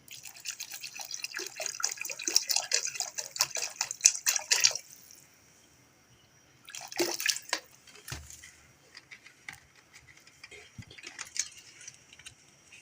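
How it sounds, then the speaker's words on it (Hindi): Water is poured into a pot of masoor dal, with bursts of splashing and trickling separated by brief pauses. "तो अब हम इसमें डाल रहे हैं आधा लीटर पानी"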